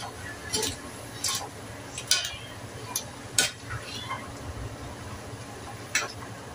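Pancit canton noodles stirred in a small wok, with sparse scraping and clinking knocks of the utensil against the pan spaced irregularly over a faint sizzle.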